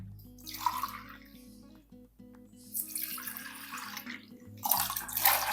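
Water is poured into a pan in three separate bursts while making rava kesari, each pour a close, splashing gush over a steady low hum in the kitchen.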